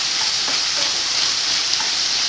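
Onion frying in a pan with sugar gives a steady close sizzle and crackle, with faint stirring scrapes throughout.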